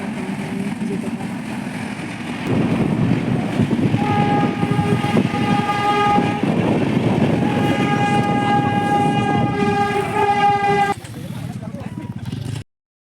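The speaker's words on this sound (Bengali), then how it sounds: "ট্রেন আসছিল বলে রেল গেট পড়ে গেছিলো, ট্রেন চলে গেছে, রেলের গেটও উঠে গেছে।" A train rumbles through a railway level crossing on a rural road near brick kilns, with steady loud wheel noise and a long sustained horn blast that cuts off near the end, followed by quieter traffic.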